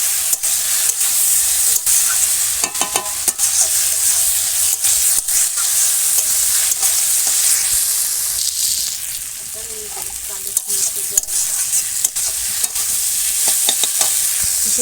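Hilsa fish heads stirred into a bubbling curry in a pan give a steady, close sizzle and hiss, with faint scraping of a spoon running through it.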